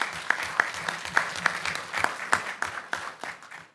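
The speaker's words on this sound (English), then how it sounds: "this group, I think you guys should give you a round of applause" A council meeting audience applauds a social workers team, a thin, scattered clapping from a small group with distinct individual claps in an uneven rhythm that tapers off toward the end.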